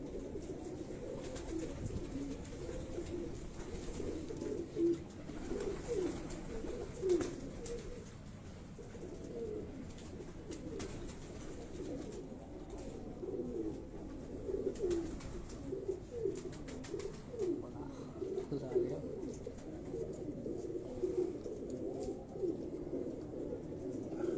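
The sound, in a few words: pigeons cooing on a rooftop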